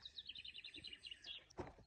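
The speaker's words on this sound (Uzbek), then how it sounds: "Burada qushlar sayrayapti." Small birds sing in a forest, a quick run of faint, high chirps and twitters at some distance, with a brief louder call near the end.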